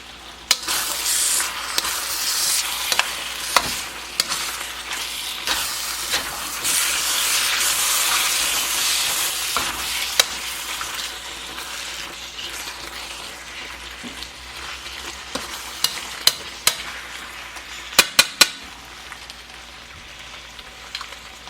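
A spicy beef and shrimp teriyaki stir fry with Cajun seasoning sizzles steadily in a hot pan, a broad continuous hiss swelling and easing, with scattered clicks and scrapes of stirring toward the end.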